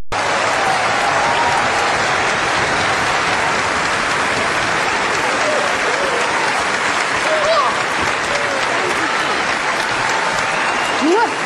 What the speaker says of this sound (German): Geben Sie sie ein riesiges Wiener Applaus